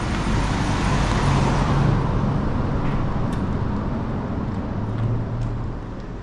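A truck rumbles past a covered bridge in Greene County, Ohio, steadily with broadband road noise, loud and close, fading slightly toward the end.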